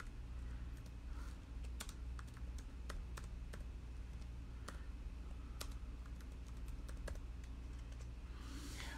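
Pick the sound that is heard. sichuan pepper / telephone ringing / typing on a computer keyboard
typing on a computer keyboard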